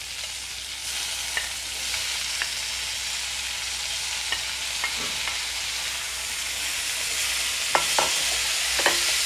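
Chopped tomatoes hit onions frying in a pan with a continuous close sizzle, while scattered clicks and taps of stirring punctuate the hiss.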